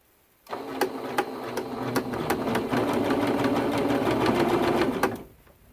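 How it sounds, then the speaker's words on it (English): A sewing machine runs a continuous straight line of stitching along quilt binding, a steady close mechanical whir with a rapid rhythmic needle clatter lasting about five seconds before stopping, no talking. "I'm going to lower my presser foot and we're ready to go ahead and start sewing."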